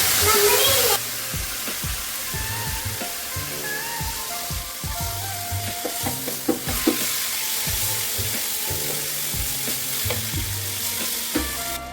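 Water splashes into a pan of sizzling Kerala-style chicken roast masala, giving a loud burst at first. A steady close-up sizzle follows, with repeated clinks and scrapes of stirring.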